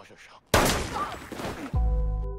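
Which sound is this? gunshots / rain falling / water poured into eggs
gunshots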